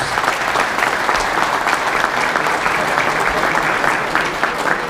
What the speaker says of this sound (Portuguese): Peço uma salva de palmas para o Silvio Barros